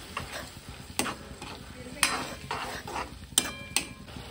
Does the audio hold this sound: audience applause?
no